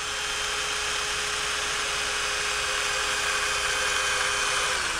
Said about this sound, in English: I'm taking this drill, holding the wire taut up here in a safe location.